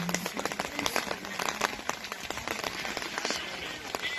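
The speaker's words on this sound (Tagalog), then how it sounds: "Umuulan." Rain falls steadily at a summer campsite in Sauze di Cesana, a dense patter of drops striking surfaces with sharper close taps scattered throughout, continuous and fairly near.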